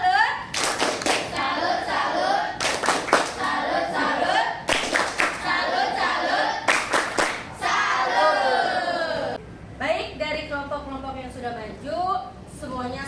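A classroom group claps in short, patterned rhythmic bursts, several rounds in a row, with voices chanting along between the claps, loud and close.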